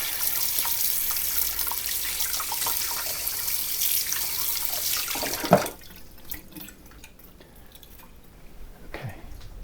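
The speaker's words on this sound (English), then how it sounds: "Washing my hands in the sink." Hands are washed under a running kitchen sink tap, water gushing and splashing steadily and close for several seconds before the flow cuts off, leaving faint drips and small handling sounds.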